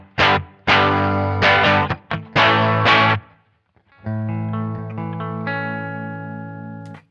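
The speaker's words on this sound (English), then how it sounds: "it's a great, great classic tube amp sound" Electric guitar through a MayFly Audio Sunrise tube amp simulator, with a warm, gritty overdriven tone, plays several strummed chords, a brief pause, then a sustained ringing chord with slight modulation.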